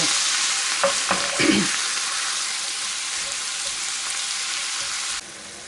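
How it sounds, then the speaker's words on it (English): Venison steaks searing in a cast iron pan give a loud, steady broadband sizzle throughout, with a few brief scrapes and clinks of stirring early on before the hiss drops off sharply near the end. "Like I said, they don't take long to sear at all."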